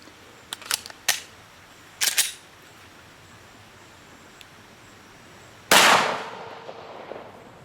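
Several sharp clicks and handling knocks come before a single loud gunshot from a G2 Research RIP round fired into a barrel. The blast rings out and decays over about a second.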